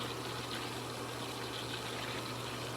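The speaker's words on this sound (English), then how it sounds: "The filter is working." Hayward sand filter pump running with water moving through it, a steady close whooshing rush over a constant low motor hum, no talk.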